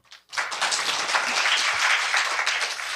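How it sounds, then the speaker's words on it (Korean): Brief applause from a lecture audience at a business talk, a burst of many people clapping that starts after a short silence and stays fairly steady for about three seconds. "여기서 박수 한번 쳐주십시오."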